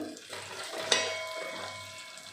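Chilli powder masala is stirred in a pan, a soft sizzle with a sharp utensil clink near the start of the stir, then faint scraping, close and quiet, no talking.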